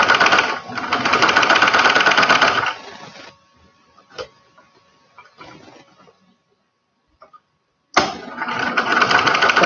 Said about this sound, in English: I don't want to be popping needles while I'm sewing this